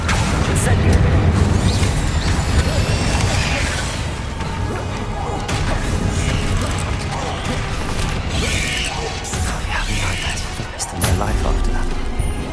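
Fire spell blasts, crashes and whooshes from a Harry Potter video game, a dense busy mix of impacts and magical effects with a voice talking over them throughout.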